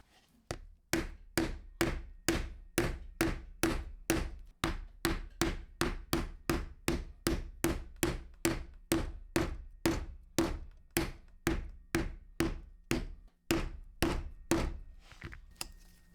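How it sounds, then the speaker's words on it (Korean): Steady, evenly spaced rubber mallet strikes on a leather punch cutting a leather bracelet, about two per second, loud and close, each a sharp thunk with a short ring, no talking. "위에서 고무망치로."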